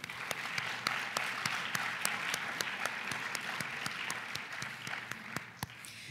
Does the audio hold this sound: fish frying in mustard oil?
no